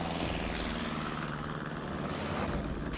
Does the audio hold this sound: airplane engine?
yes